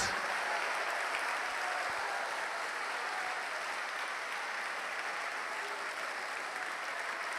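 Church congregation applauding steadily, a dense even wash of clapping from many hands that holds without pause, moderately distant and filling the room.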